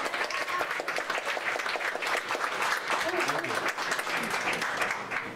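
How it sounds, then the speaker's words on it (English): Audience applause at a science pub talk, dense steady clapping from a crowd in a room, loud and even throughout with no pauses. "So, round of applause for Dan."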